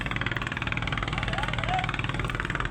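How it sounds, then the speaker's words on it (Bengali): Steady rumble of the engine of the passenger launch Green Water 7 as it arrives at a riverside landing, loud and continuous, with crowd chatter and voices underneath. "ওই যে লঞ্চ আসতেছে"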